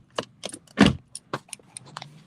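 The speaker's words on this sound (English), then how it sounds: "Cutting the car off." Car keys jangle and clack in a series of sharp metallic bursts as a car is switched off, with one louder rattle near the middle, then lighter clinks trail away. No talk.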